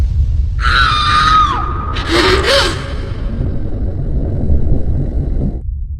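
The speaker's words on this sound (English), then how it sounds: "She screamed." A woman's sharp scream in a horror audio story, a rising wail followed by a second strained cry over a low rumbling ambient drone that continues after she stops.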